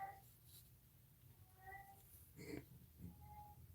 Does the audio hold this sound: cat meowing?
yes